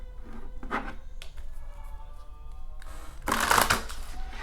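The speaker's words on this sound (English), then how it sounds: "Shuffle 3 times, put them into 2 decks." Tarot cards being shuffled close up, soft riffling bursts with a louder, dense flurry near the end, no talking.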